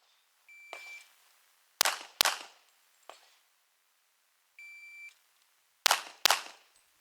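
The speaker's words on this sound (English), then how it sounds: "I'm using the timer as well to get used to reacting to the beep" A shot timer gives two flat electronic beeps during an IPSC pistol draw drill on a range, each followed by loud sharp gunshots in quick pairs and singles, close and ringing with no talk.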